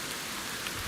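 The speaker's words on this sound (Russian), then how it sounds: "Начался дождик, ребят." Light rain beginning to fall outdoors near canals at an abandoned resort, a steady, soft patter of drops with no other sounds.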